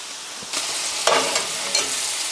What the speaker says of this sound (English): Look how beautifully they're frying up.